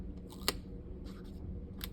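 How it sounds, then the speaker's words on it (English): Scissors snipping Scotch tape at the edge of a table, giving two or three short, crisp cuts close up over a low steady background hum. "grab your scissors, cut,"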